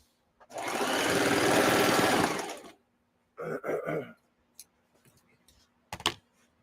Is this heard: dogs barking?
no